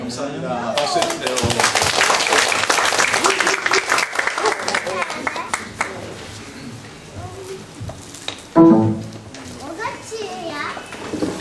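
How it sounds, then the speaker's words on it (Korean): Applause from a church congregation at a family worship seminar: hand clapping and cheerful voices swell for several seconds, fade, then a brief louder burst follows as the speaker resumes talking. "박수 해주세요."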